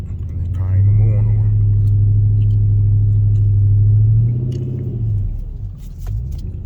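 A cold Dodge Magnum SRT8 on 26-inch wheels rumbles with a deep, loud engine surge that holds for about four seconds and then falls back to a lower idle as the throttle eases.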